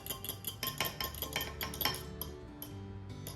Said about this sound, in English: And just kind of mix up our wet ingredients.